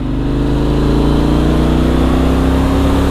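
A Benelli Leoncino 800 scrambler motorcycle, at 50 km/h in fifth gear, accelerates with a loud, continuous engine drone close to the rider, its pitch climbing slowly.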